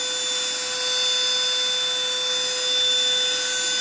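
Ingco CVLI2001 20 V cordless vacuum cleaner at high speed, a loud continuous motor whine with a rushing airflow hiss, close up and steady throughout, with no talking.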